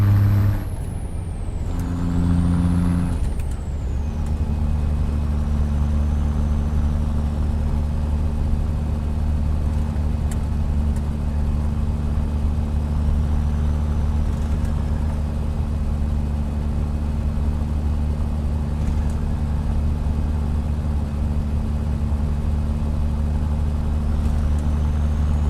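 Simulated truck with an 855 Big Cam engine in a driving game: a loud, steady diesel drone runs throughout, preceded by a short hiss and a shift in engine pitch at the start.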